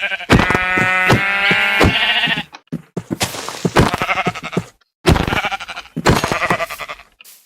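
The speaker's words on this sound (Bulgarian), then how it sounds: "само да убия тук една капява овца" Minecraft sheep bleating repeatedly, loud close wavering baas in several bursts separated by brief silences, with thunking hit sounds mixed in.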